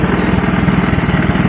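The engine of a 1984 Honda ATC200S three-wheeler, running without an air filter, idles loudly and close by with a quick, even thumping beat and no talking over it.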